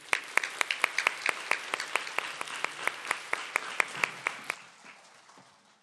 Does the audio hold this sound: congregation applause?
yes